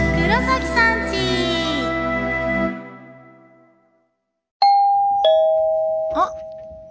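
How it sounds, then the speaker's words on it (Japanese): A doorbell chimes twice in a bright ding-dong, heard alone after a fading music sting and a brief silence, with a third tone following right after. "ピンポン。"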